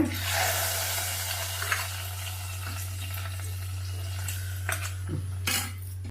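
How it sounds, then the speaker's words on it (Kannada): Kitchen clatter of a utensil and pot as tempering is stirred into Karnataka vegetable sambar, watery stirring and light scraping, a steady low hum underneath, a few sharper clinks near the end. "ಒಗ್ಗರಣೆ ಹಾಕಿದ್ದೀನಿ ಇದನ್ನೆಲ್ಲ ಮಿಕ್ಸ್ ಮಾಡ್ಕೊತೀನಿ"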